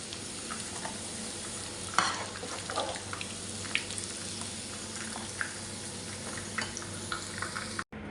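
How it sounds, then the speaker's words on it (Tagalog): Chips being double-fried in a pan give a steady sizzle of hot oil, with scattered stirring clinks and scrapes and a few sharper knocks, heard close with no talking. "i-double fry ko po yan para po manatili yung pagiging crispy niya"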